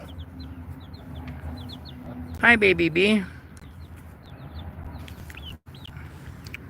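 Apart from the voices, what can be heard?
chickens clucking while eating leaves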